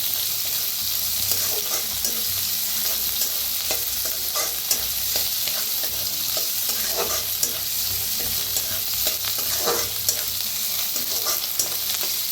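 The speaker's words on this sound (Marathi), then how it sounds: "त्याच्यातच टाकूया कांदा। कांदा बी भाजून घेऊया।" Onion stirring and frying in a pan for a Marathi-style karadi leafy vegetable dish, a steady close sizzle broken by scraping stir strokes all the way through.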